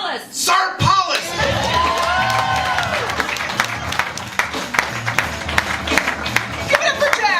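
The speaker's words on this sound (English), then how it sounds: "Ladies and gentlemen, a big round of applause for Alexandra" A comedy club audience breaks into loud, sustained applause with cheers and whoops, clapping filling the room throughout while a voice calls out over it near the start.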